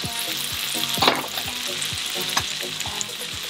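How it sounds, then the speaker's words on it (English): Capers fry in a pan with a steady, close sizzle and crackle, marked by repeated scraping stir strokes and one louder spatter burst near the one-second point. "I like to fry my capers a little bit."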